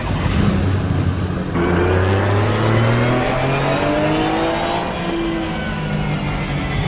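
A pack of race car engines at a rolling race start in Raceroom or Assetto Corsa, loud and close, droning and revving together with rising pitch sweeps as cars accelerate, continuous throughout.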